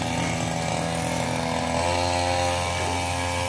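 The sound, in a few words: grass cutter running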